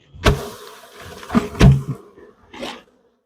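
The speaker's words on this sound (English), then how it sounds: "I'm just going to bang them down here." A wooden bee box banged down in a farm apiary to shake out bees, three sharp close thumps with scraping rattles between, then a softer knock near the end, with no voices.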